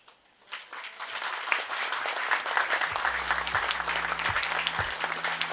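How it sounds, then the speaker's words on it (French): Enthusiastic applause from an audience at the soft opening of the Kestrel Centre, swelling quickly into sustained clapping, with a low musical drone entering partway through. "Nous allons les applaudir très très fort."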